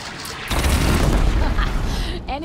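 A cannon fires in the video game Horizon Zero Dawn. A loud, deep blast erupts and rumbles for about two seconds before fading.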